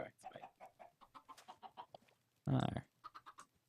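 Chickens in a zoo-building video game cluck in a steady run of short clucks, with a louder squawk partway through, fairly close and with no talking over them.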